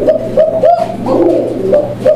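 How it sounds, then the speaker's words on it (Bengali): A male pigeon coos loudly and close by, giving a series of repeated throaty, rolling coos in a steady rhythm with no talking. "তো আসলে কোকা ডাকতেছিল"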